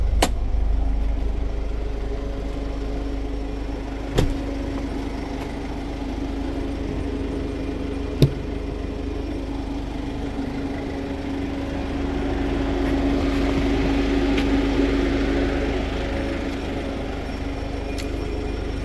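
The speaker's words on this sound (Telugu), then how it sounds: "ఒకసారి ఇంజన్ కూడా స్టార్ట్ చేద్దామండి. సింగిల్ సెల్ఫ్ ఇంజన్ అనేది స్టార్ట్ అయిపోయింది." A 2014 Honda City's engine turns over with a single crank and settles into a steady low idle hum, with a couple of sharp clicks along the way and no voices.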